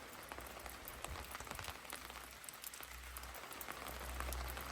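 Rain falling outdoors on a cold day of about 9 to 10 degrees near an icy pool, a steady soft patter with a low rumble of wind underneath, fairly faint and continuous, with no voices.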